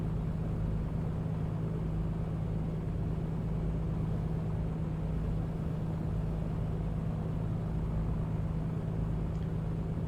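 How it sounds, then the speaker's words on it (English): Aircraft engines idle while warming up in a flight simulator, a steady continuous droning rumble with a constant low hum, unchanging throughout and without voices. "So while we are waiting for our engines to be a little bit warmer"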